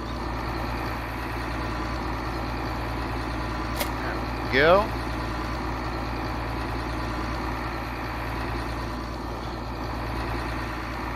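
A tractor engine idles steadily in a farming video game, a low, constant rumble running throughout, with someone talking over it and a brief swooping tone partway through.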